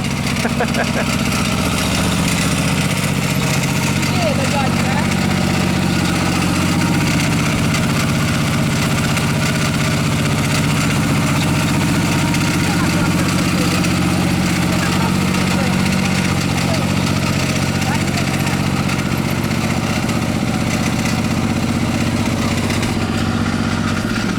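A tractor engine idles steadily and loudly nearby, a constant low rumble with mechanical rattle throughout.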